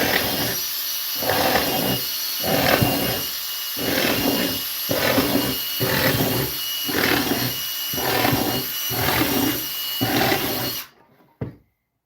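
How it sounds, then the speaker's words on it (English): Power drill boring holes into a cedar planter box, sounding in about ten close, loud bursts of steady whirring separated by short pauses, then cutting off near the end. "Got to drill some holes"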